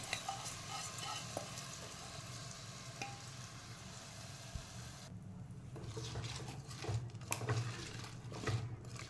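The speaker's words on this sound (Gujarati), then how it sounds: "હવે આ ચોખા છે ને ધોયેલા, એ પણ અત્યારે એમ જ એડ કરી દેવાના." Washed rice stirred with vegetables in a pot for pulao, a soft sizzle under scraping spoon strokes that grow a little louder toward the end, close but quiet, with no talk.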